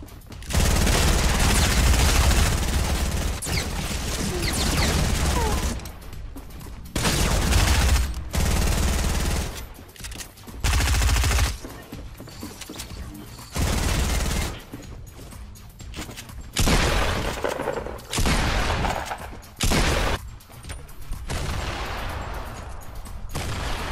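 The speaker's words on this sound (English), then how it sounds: "He just shot me through the wall." Rapid bursts of gunfire from a Fortnite Battle Royale match come in loud, dense volleys separated by short pauses, with the firing continuing in stretches throughout.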